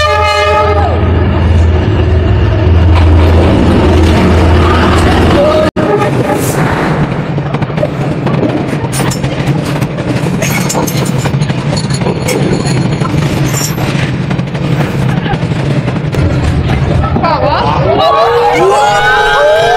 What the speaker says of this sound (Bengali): ট্রেন অলরেডি আসা স্টার্ট হয়ে গেছে, কারণ একটা রিং বেল বাজছে